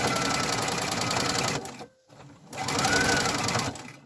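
A sewing machine stitches fabric for a reusable fabric advent calendar in a loud, rapid mechanical whir that stops briefly near the middle as the needle is dropped and the presser foot raised, then resumes.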